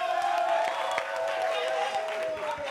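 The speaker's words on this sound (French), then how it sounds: "Merci, on l'applaudit très fort." A live audience at a French-language variety show claps and cheers steadily under a sustained tonal hum, a dense, loud crowd wash throughout.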